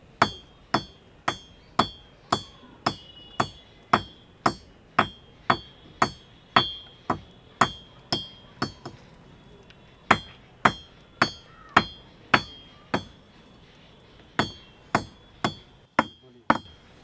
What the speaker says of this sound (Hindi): इससे कासे की आवाज़ आती है